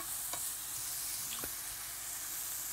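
Meat browns in a pan with a steady, bright, hissing sizzle that continues throughout, with a couple of soft clicks as the pieces are turned.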